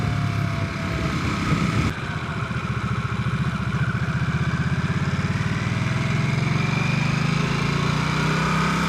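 A cruiser motorcycle engine chugs steadily with a low, pulsing rumble, heard up close and loud for the whole stretch with no talking.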